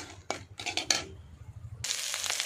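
Onions dropped into hot chilli-fried oil in a pan, with a few clattering utensil knocks early on, then a sudden bright, steady sizzle that rises and holds close and loud to the end.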